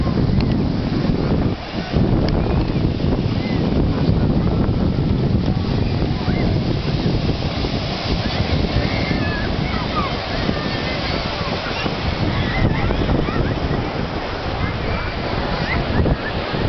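Atlantic Ocean surf off Brazil rolls in a constant roar with strong wind buffeting the microphone, loud and unbroken throughout.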